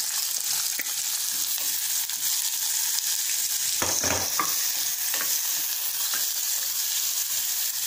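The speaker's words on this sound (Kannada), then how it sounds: "ಚೆನ್ನಾಗಿ ಫ್ರೈ ಆಗ್ತಾ ಇದೆ" Carrots fry in a hot pan for masala upma, a steady close hiss of sizzling broken by a few spatula scrapes and stirs.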